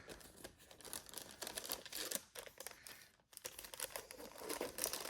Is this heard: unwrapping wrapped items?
yes